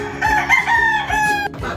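Chickens in a scratching pen cluck and call in a close, steady stream of tonal squawks, with a crow-like call standing out over a low farmyard hum.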